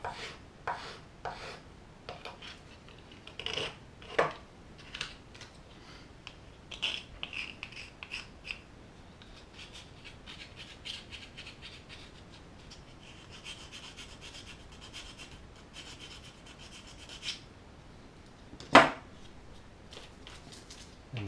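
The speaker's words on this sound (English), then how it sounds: "Files really quick. It's quite soft stuff." Rasping strokes of a file on a soft metal part from a GJH Plant O gauge 7mm model kit, a steady run of close, quick scrapes with a few louder strokes and a sharp knock near the end.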